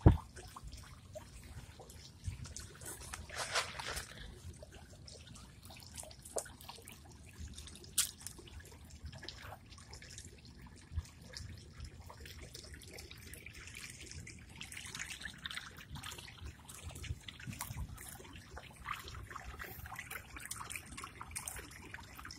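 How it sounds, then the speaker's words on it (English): Water from a garden koi pond fountain runs and splashes steadily throughout, a continuous close trickle with small drip-like accents and no talk over it. "Fountain, I turn it off so I can be able to see the kois. Otherwise the water's just running everywhere"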